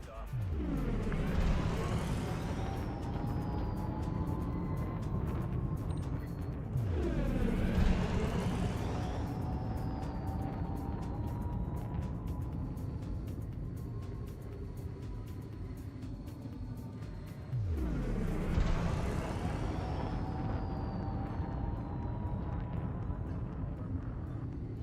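A spaceship in the game Elite Dangerous lifting off, heavy low thrusters rumbling in repeated surges with rising whines that sweep upward, a continuous loud roar throughout.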